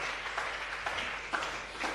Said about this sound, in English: A round of applause for Barry.